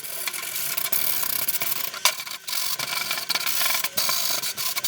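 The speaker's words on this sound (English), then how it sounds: "take your sandpaper to clean up some of the edges so that you won't cut yourself later on" Sandpaper rubbed steadily over the cut edges of a wooden kayak crate, a continuous close, loud rasping scrape with brief pauses and strokes, no voices.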